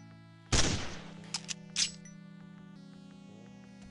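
A single burst from the attack weapon in FreeDoom, a high-tech chain-gun type gun, fired once loudly at the start with two or three quick shot-like cracks following, over a steady low game music drone.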